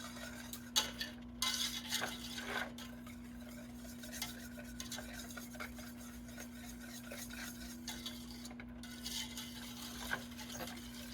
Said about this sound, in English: Just kind of stir it around